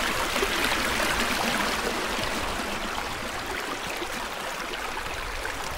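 A small stream flows with a steady, broadband rushing and trickling wash, close and continuous throughout, with no voices.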